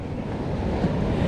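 Ocean waves break and wash steadily onto a surf beach at sunset, a continuous loud roar of surf mixed with gusty wind rumble on the microphone.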